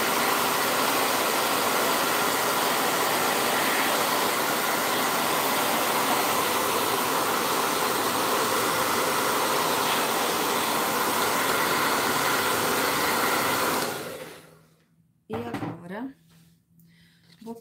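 A hair dryer dries a painted rabbit on a rustic Easter craft plaque: a loud, steady blowing roar held for about fourteen seconds, then it cuts off, leaving a few faint handling sounds.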